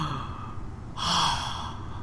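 A character's heavy breathing in The Hidden, a close, airy exhale that swells into a sharp, louder gasp-like breath partway through, with no speech.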